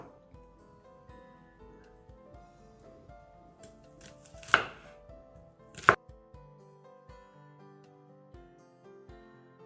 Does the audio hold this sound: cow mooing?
no